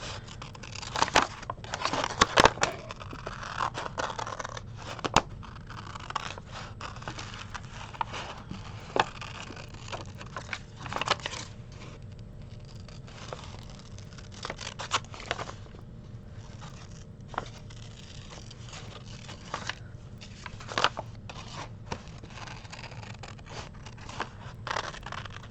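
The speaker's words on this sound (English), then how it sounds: "just do this with your scissors, and move your paper. You'll get a smoother cut." Scissors snip through paper in a long run of short, crisp cuts, close and fairly quiet, with small scraping and rustling in between and no talking.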